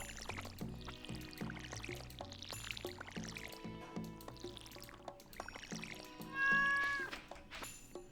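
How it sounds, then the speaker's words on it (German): A cat meows in the farming video game Stardew Valley: one drawn-out, clear meow near the end, rising above steady background game music with plucked, rhythmic notes. "Wieso miaut die überhaupt?"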